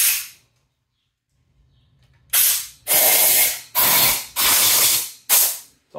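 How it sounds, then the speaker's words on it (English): Compressed air blasts into the cylinders of an LQ4 6.0 V8 engine block in five loud, close bursts of hissing spray, each cut off sharply after about half a second. "It's also your last chance to blow anything out of the cylinders."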